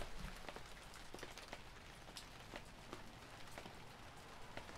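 Steady rain in the video game Thief 2 falls softly, a dense patter with scattered sharper drops, quiet and continuous throughout.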